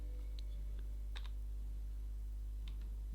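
A few quiet keystrokes tapped on a computer keyboard while entering a command in a terminal, short clusters of clicks separated by pauses over a low steady hum.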